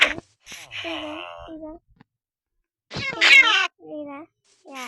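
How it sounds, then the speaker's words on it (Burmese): A cat in the Minecraft video game meows in short tonal bursts, two separate calls heard clearly with silence between, and a brief voice sound at the start. "ကြောင်ကြီး"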